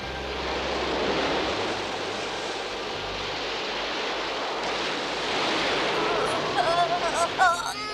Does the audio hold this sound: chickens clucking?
no